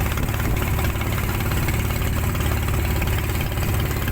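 A large ship's engine idles at Sual, Pangasinan, heard close by its exhaust as a loud, steady low rumble with a dense mechanical texture that holds throughout, with no talking.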